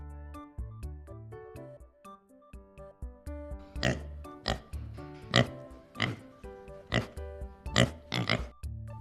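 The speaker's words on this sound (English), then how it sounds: "Pig." Pig grunts and snorts sound over a soft musical backing, a series of short rhythmic oinks growing louder and repeating about every half second to second.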